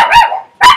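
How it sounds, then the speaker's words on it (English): A dog gives two sharp, close barks with a short pause between them, loud and alone with no talk over them. "And there's the dog."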